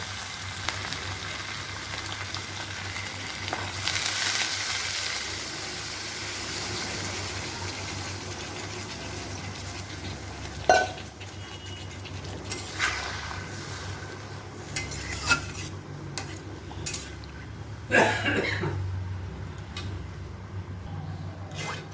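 Water added to a pan of hot oil while cooking muri ghonto, a Bengali fish-head and rice dish, gives a steady sizzle with scattered clinks and stirring knocks from the pan, and no one speaks.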